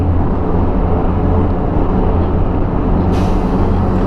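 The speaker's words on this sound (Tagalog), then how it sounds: "Hindi natin nakita. Laking truck ah." A large truck passes on a road in Pangasinan, heard from a motorcycle on a road trip as a loud, steady broadband roar that swells near the end, with no talk.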